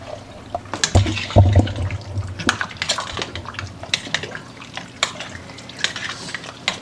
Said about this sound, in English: I'm going to stir all this up real quick